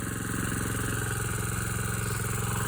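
A small go-kart engine, its governor limit screw backed out, runs steadily while warming up, giving a close, loud, evenly pulsing mechanical drone with no change in pitch and no talking.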